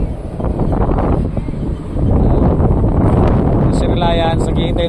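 Strong wind buffets the microphone on a ferry loading ramp for the Poseidon 53 bound for Roxas City, a loud rumbling roar throughout with voices talking underneath and a brief high squeal near the end.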